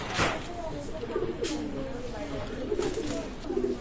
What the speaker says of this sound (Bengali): চমৎকার ব্লাড লাইনের কবুতর